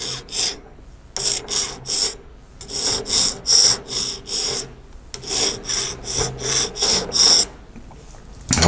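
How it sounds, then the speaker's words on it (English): A hand file rasps across a soldered metal 868 MHz LoRa antenna, steady back-and-forth strokes in bursts with short pauses, close and alone. "slowly, nice and easy, using a file, get it back to the right dimensions"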